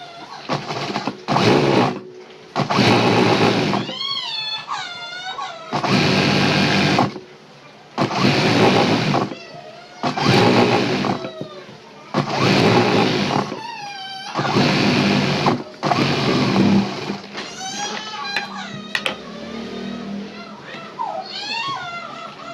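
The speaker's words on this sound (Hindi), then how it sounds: "वैसे ही दूसरे साइड वाले पे सिलाई मार लेना है।" A sewing machine stitches the side seams of ladies' pants in a run of short bursts of rapid stitching, each lasting a second or two. The bursts are separated by brief pauses, and a voice talks over and between them.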